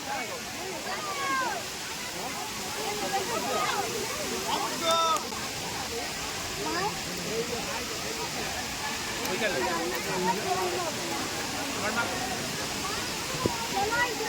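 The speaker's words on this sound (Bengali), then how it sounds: "পিছনে মনে হয় এখন বামনি ফলসের সামনেই রয়েছে" Bamni Falls waterfall in Purulia, a steady broadband rush of falling water filling the scene, with voices talking intermittently over the continuous roar.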